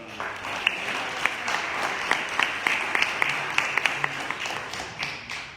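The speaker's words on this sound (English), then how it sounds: "So let's give Bill a nice round of applause" A church congregation claps in a warm, sustained round of applause, with a steady wash of many hands and a few sharper nearby claps standing out, and a brief murmur of voices underneath.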